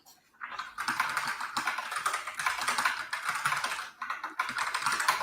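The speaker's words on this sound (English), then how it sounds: "Your keyboard is much louder than mine." Loud computer keyboard typing in fast, steady bursts of clicks with a short pause near the middle, close and clear with no talk over it.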